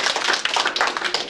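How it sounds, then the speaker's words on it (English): A brief burst of clapping for a cub scout at a 1994 ward award gathering, several hands applauding quickly and close by, with no talking. "Let's give Ned a round of applause."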